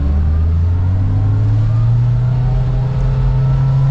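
A 2025 Kawasaki Ridge Crew side-by-side engine runs steady and loud, its low droning note rising slightly in pitch as it revs up through a few seconds with no voices over it.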